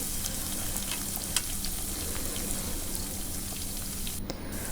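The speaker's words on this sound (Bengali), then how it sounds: "এখানে আমি পেঁয়াজগুলো ভেজে নেব একটু একটু করে আস্তে আস্তে করে" Onions fry slowly in oil in a pan, giving a steady close sizzle with faint bubbling crackles throughout and a brief clink near the end, with no speech.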